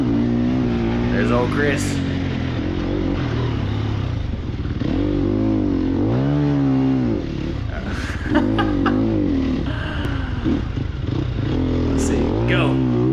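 A Sherco 300 SEF dirt bike engine in a racing video game on a country track, revving and bogging in rising and falling sweeps, loud and close, while someone talks over it.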